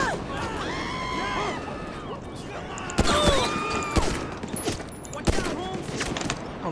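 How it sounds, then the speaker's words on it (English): Gunfire in the video game GTA 5, with bursts of shots and sharp cracks against busy game noise, and excited speech over the top. "someone's shooting at me"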